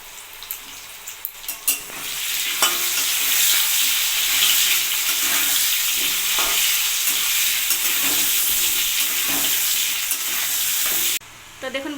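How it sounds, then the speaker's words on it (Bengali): Potatoes seasoned with salt and turmeric fry in hot oil in a pan, giving a steady bright sizzle that swells after a few initial clatters and cuts off near the end. "ওদিকে আমি আলুটা ভাজা বসিয়ে দিয়েছি"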